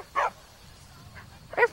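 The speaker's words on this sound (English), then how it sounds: "This is a doggy." A dog in the video game Skyrim gives two short, sharp barks with a softer yip between them, close and clear over quiet background.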